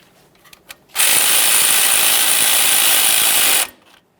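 Power tool snugging an 8mm mounting bolt on a 2015-2020 Ford F-150 during a locking hub actuator job: a single steady, loud whir lasting close to three seconds, with faint clicks before it starts.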